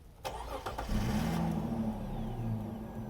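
A boat's engine cranks and catches, then settles into a steady, loud running rumble close by, with no talking.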